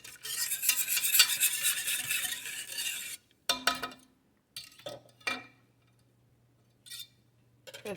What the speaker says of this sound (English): And then stir it all together.